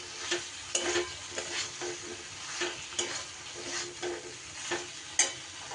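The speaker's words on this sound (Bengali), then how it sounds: "দিয়ে মশলার সাথে এইভাবে একটু নাড়িয়ে চাড়িয়ে নেব।" Fried potato fritters being stirred into a spice mix in a pan, with a soft oil sizzle under repeated scraping strokes of a spoon, each stroke giving a short sharp clack, close up.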